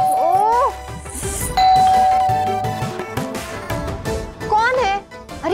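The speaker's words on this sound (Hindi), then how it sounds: "अरे इतनी जोर से क्यों घंटी बजा रहे हो?" A doorbell rings repeatedly with ding-dong chimes at a home's front door, loud and insistent, while voices talk over and between the rings.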